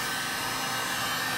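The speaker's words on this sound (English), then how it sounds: "No, put the heat gun on that." Heat gun blowing near dry ice by an indoor pool, a loud, continuous airy roar with a steady whine, unbroken throughout.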